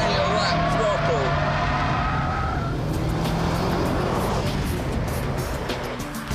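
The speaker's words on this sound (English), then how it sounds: "with more power and four-wheel drive, you can light up all four tyres" A four-wheel-drive car power sliding, engine roaring loudly with tyres spinning and squealing across the surface, while someone talks over it.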